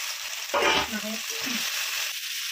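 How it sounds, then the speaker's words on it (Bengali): Prawns drop into hot oil in a kadai, bursting into a loud sizzle that settles into steady, close frying with some stirring. "তেলটা গরম হয়ে গেছে, চিংড়ি মাছটা দিয়ে দিচ্ছি।"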